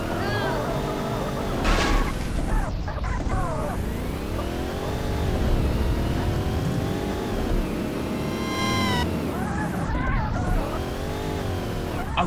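A car engine revs and accelerates in a driving game, with rising and falling pitch sweeps and a brief tire squeal, running steadily loud and close throughout.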